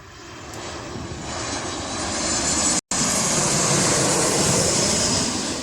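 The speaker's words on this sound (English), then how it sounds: "is it going to be a 737 or an A320s type plane?" A passenger jet, a 737 or A320 type, roars past in a broad, loud, sustained rumble that swells and holds throughout, with one brief dropout partway.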